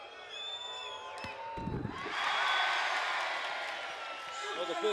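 A beach volleyball crowd at the Sao Paulo Grand Slam final swells into loud booing and whistling during a serve, a broad roar rising after a ball strike while commentators talk over it.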